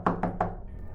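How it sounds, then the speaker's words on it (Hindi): Three quick, evenly spaced knocks on a door, close and fairly loud, each followed by a short dull resonance. "मैंने दरवाज़ा खटखटाया।"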